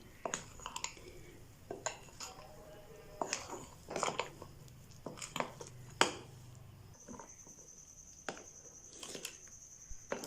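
Cake batter folded and mixed in a bowl for an oven-free cake, sharp spoon clicks and scrapes against the bowl at irregular intervals, fairly faint and close.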